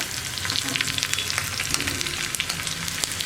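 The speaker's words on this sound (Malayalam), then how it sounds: "കടുക് പൊട്ടി കഴിയുമ്പോൾ നമ്മൾ നേരത്തെ റൗണ്ടിൽ കട്ട് ചെയ്ത് വെച്ചിരുന്ന ഉള്ളി ഉണ്ടല്ലോ അത് ചേർത്ത് കൊടുക്കുക" Loud, continuous sizzling of round-sliced onion frying in hot coconut oil with popped mustard seeds, crackling and spitting steadily throughout with no voices.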